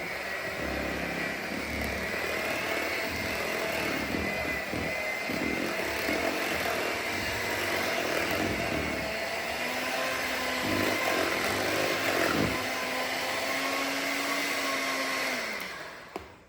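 Electric mixer whirring steadily through lime pie filling in a home kitchen, a loud continuous motor buzz that holds even, then dips in pitch toward the end before cutting off.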